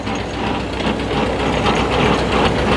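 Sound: chain drive powered by tractor PTO

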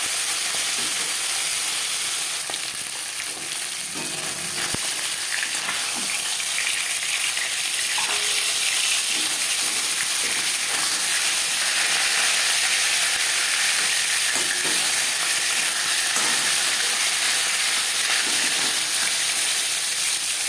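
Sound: tilapia fish frying in oil

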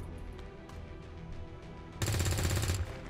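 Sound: gunshot from the XCOM 2 video game

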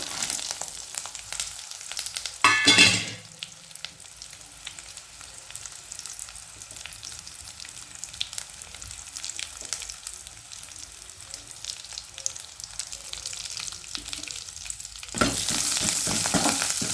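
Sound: stirring puffed rice with peanuts in a pan over low flame

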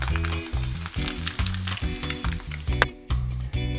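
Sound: butter sizzling in a pan for whitebait fritter

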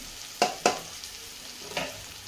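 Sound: stirring spinach stir-fry with crushed peanuts

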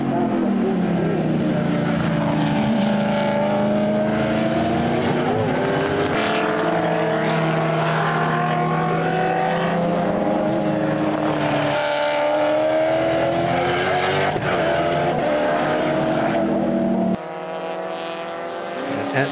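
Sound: race cars passing on a circuit

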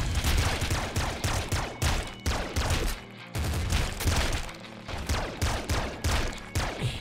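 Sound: Assault Slugger gunfire in video game Nuclear Throne

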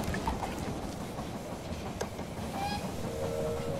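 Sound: train arriving at station in the video game They Are Billions

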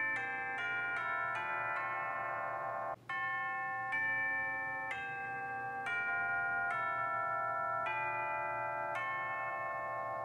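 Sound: tubular bells chimes

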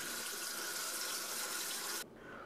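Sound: tap water rinsing canned chickpeas in a colander

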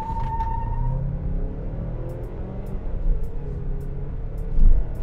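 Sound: Mazda CX-5 2.5 Turbo accelerating from 0 to 100 km/h

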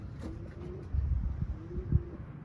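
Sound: homing pigeons flying and cooing

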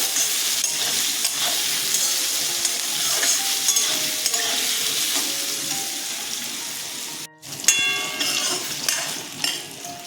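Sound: frying banana stem with turmeric and salt in a pan

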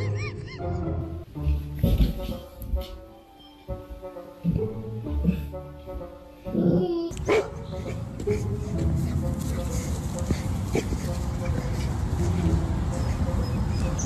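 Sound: golden retriever dog barking and whimpering

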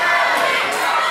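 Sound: wrestling crowd chanting for Joey Adams

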